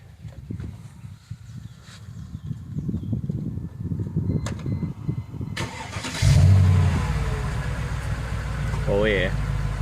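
A Mercedes 5.5 AMG hand-built engine fitted in a 1999 C43 cold-starts with a loud burst, then settles into a steady, deep idling burble; handling noises come first and a brief voice breaks in near the end.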